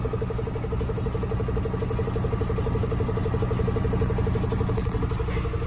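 A camper truck engine idles steadily, a loud, close, even rumble with a fast regular pulse and no talking.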